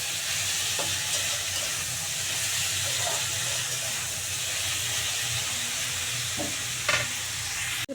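Dried fish sizzles steadily in a pan with potato and onion, a continuous close frying hiss broken by occasional scraping of a spatula being stirred through.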